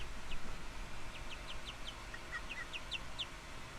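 Several backyard chickens cluck and chirp in short, scattered calls at moderate distance over a low outdoor rumble, with no talking.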